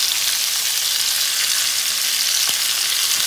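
Onions frying in hot oil give a loud, continuous close-up hiss and crackle that holds steady throughout, with a faint clink partway through.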